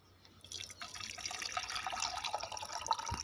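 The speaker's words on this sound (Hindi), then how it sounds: "उसको गर्म पानी से धो रहे हैं" Hot water is poured over mercury being washed after oil removal, a steady close splashing and trickling with drips, starting after a brief quiet moment and running evenly to the end.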